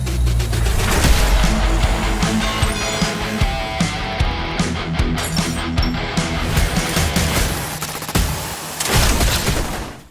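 Rapid, loud gunfire from assorted weapons in the fast-paced shooter video game Turbo Overkill, with bursts of shots and booming impacts layered over a thick game soundtrack, nearly continuous with brief lulls.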